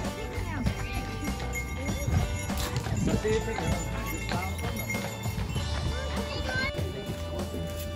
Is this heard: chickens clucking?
no